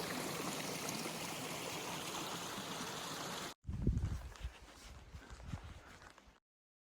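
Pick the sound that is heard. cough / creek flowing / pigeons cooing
creek flowing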